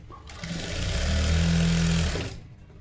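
A sewing machine stitching a V-neck blouse runs in one steady whirring burst of about two seconds, rising and fading, loud and close with no talk.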